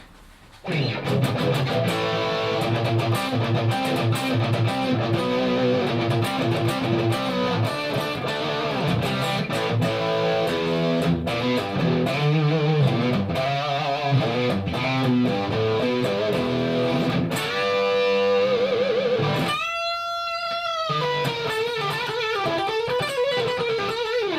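Heavily distorted electric guitar played straight into a high-gain Igor 2204 amp with no effects, sustained chords and riffs played continuously, ending in a few ringing feedback-like notes.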